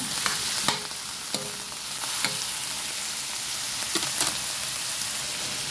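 Chicken for pancit bihon is stirred in a hot pan, a continuous sizzle broken by several sharp scrapes and taps of the utensil against the pan, close and moderately loud with no talking.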